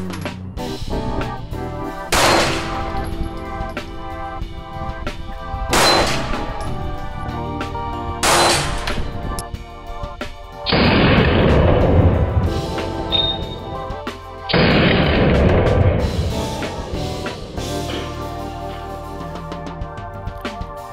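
Gunshots at an outdoor shooting range in Florida: a run of loud, sharp single reports at uneven gaps, with two longer, heavier bursts of fire near the middle.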